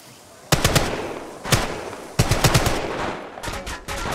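Bursts of automatic gunfire from the Apex Legends Mobile shooter game, several rapid volleys of close, sharp shots separated by brief pauses, with a fainter burst trailing off near the end.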